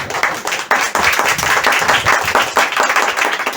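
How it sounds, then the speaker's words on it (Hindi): An audience in a hall applauds, with dense, continuous clapping that stays loud and even for a few seconds, with no voice above it. "हाँ, ताली होनी चाहिए उल्लासनगर वाले।"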